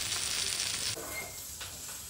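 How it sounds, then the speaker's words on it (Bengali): Fish wrapped in pui leaves fries in hot oil, giving a steady, close, bright sizzle with crackling throughout and no talking. "চলছে ভাজা, চলছে এখনো অবধি।"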